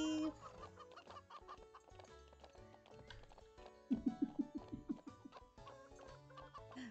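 A burst of rhythmic chicken clucking in the video game Ranch of Rivershine rises over busy background music, the clucks coming in a quick run of repeated notes.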